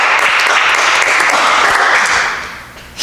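A church congregation at Mass gives sustained, loud applause that holds steady for a couple of seconds and then fades toward the end.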